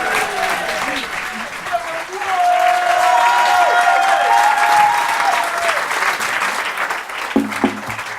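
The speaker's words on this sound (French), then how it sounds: "Je vous demande d'applaudir avec nous Monsieur Jean-Baptiste." Studio audience at a French TV broadcast applauds to welcome a guest, steady dense clapping throughout, with a few short louder bursts near the end.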